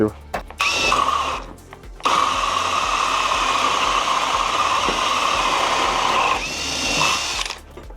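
A ProCraft CD20B cordless drill bores through material with a 76 mm hole saw, giving a loud, steady whining grind that runs several seconds after brief stop-start bursts and then winds down, with a voice briefly heard.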